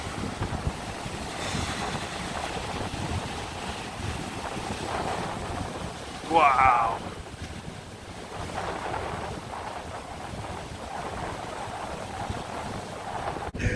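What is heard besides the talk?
stormy waves pounding in on a UK beach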